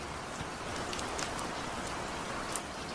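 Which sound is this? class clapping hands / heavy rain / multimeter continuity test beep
heavy rain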